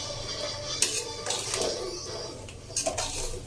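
A large ladle scrapes and clinks against a metal pot while puffed rice upma is stirred, with intermittent metallic taps and soft rustling of the grains in a steady, close kitchen scene.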